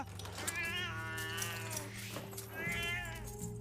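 A cat gives two drawn-out, wavering meows, loud and close, with a short pause between them.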